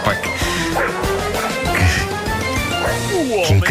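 A dog yips and barks several times in quick bursts, close and loud, mixed with whimpering, while people talk over it in a busy setting.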